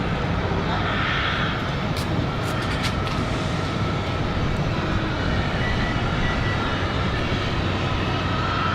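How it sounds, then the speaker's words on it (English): A steady, loud jet engine roar from an American Eagle regional jet pushing back at Raleigh-Durham airport on a windy day, constant rumble and whine throughout, with a voice speaking over it. "So we've got the American Eagle pushing back."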